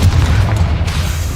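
A Confringo spell in Hogwarts Legacy bursts as a loud, deep boom with a broad rumbling blast that holds briefly before easing off.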